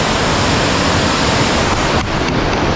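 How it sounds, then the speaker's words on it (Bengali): Pagla Jhora waterfall near Darjeeling, running with modest flow in the rainy season, makes a steady, dense rush of falling water that stays loud and unbroken throughout, with no voices. "দেখে নাও এটাই ওই ওয়াটারফলটা।"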